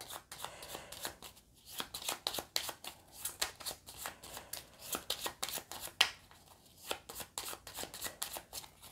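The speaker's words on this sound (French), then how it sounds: "Je mélange ma défausse." A discard pile of board-game cards being shuffled by hand, a quick run of crisp riffles and soft slaps in an irregular rhythm, close and fairly quiet, with no talk.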